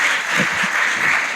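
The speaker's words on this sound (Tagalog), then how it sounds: "Palakpakan mo na natin ang Panginoon." Church congregation clapping enthusiastically at a faith revival service, a dense steady wash of applause lasting about a second and a half with no talk over it.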